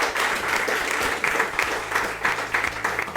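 An audience claps warmly and continuously at the close of a live podcast recording, steady applause filling the room throughout.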